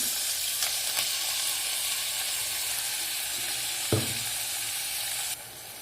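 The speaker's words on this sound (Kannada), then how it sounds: "ಈಗ ಸ್ವಲ್ಪ ಈಗ ರುಬ್ಬಿರೋ ಮಸಾಲ ಹಾಕ್ತಾ ಇದ್ದೀನಿ" Ground masala sizzles steadily in a hot pan for a green pea and potato pulao, a constant loud frying hiss with a brief clunk of stirring partway through.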